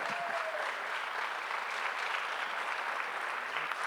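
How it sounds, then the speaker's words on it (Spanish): A church congregation applauds during a sermon, a steady wash of many hands clapping that holds at an even, moderate level throughout. "¿No le das un aplauso a Cristo?"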